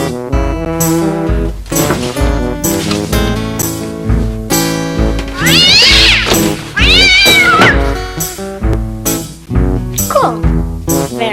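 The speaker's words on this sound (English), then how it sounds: "A kitty cat." A cat meows loudly and repeatedly over an upbeat musical soundtrack, with a few drawn-out wavering cries standing out near the middle.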